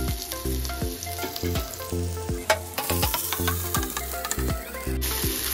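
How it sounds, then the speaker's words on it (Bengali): Ginger and garlic sizzle in hot oil in a wok, a steady frying crackle that runs the whole time beneath prominent rhythmic background music. "কড়াই দিয়ে দিয়েছি তেল, তেলের মধ্যে দিয়ে দিলাম একটু আদা রসুন তেল"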